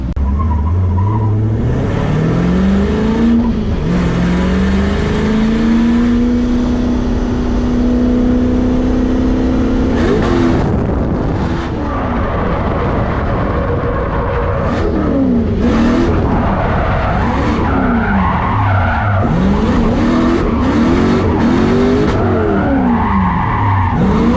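A car with an LS engine swap in a BMW E30 revs hard through gears as tires squeal and skid repeatedly, loud and close, with sweeping engine pitch changes.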